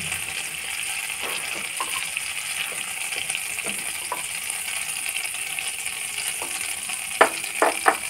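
Fried fish lifted out of hot oil, a soft low sizzle with faint scraping and a few sharp clinks of a utensil near the end, close but quiet, no voices.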